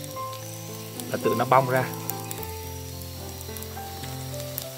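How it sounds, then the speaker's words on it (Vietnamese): Leftover rice cakes fry in a pan with a steady, close sizzle. A brief louder burst of crackling comes near the middle, and a voice speaks over part of it. "Mình chiên bằng cái chảo thường hay là chảo chống dính đều được nhé."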